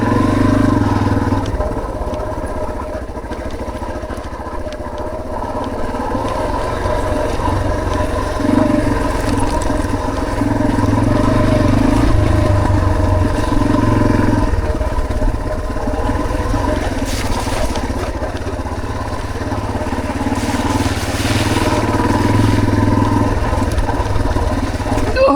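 An off-road motorcycle with a reinforced skid plate rides a Green Mountain trail, its engine droning steadily and loudly the whole time, with the revs rising and falling and occasional clatter from the rough ground.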